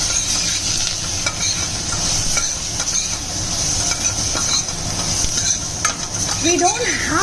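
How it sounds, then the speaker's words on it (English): Spices with chili powder are stirred in a sizzling frying pan for cucumber sambar, a continuous close hiss of frying with intermittent scraping clicks of the spoon against the pan. "stirring."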